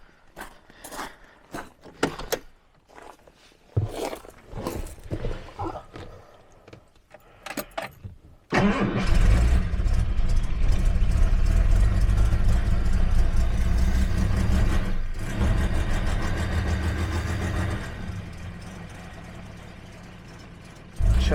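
A 1970s Jaguar car engine turns over with jangling keys and clunks, then catches and settles into a loud, steady idle with the choke partly on, close by and continuing to the end.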